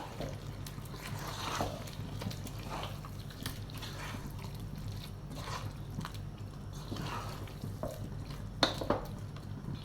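Chicken dum biryani, Thalassery style, stirred in a pot: soft wet scraping and occasional clinks of a utensil against the metal, quiet and close, with a louder knock near the end.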